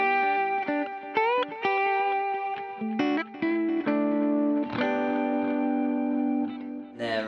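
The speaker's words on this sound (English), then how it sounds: "I've got it on a tape delay right now." Distorted electric guitar notes and chords ring out through a tape delay, with repeating echoes trailing behind them, played alone in a loose melodic phrase.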